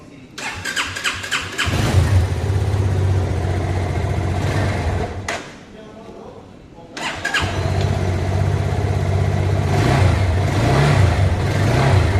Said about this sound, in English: Now let me make you hear the exhaust note of this motorcycle. So let me crank it up.